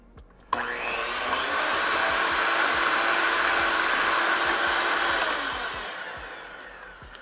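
A mixer whips vegan salted caramel pudding to loosen it and add air, switching on abruptly with a loud, steady high whir that holds for several seconds before winding down, with no talk.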